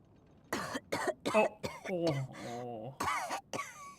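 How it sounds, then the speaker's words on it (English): A video game character in Genshin Impact gives a series of harsh, raspy coughs and throat-clearing sputters close together, with strained vocal groans between them. "she's gonna cough up a lung for sure"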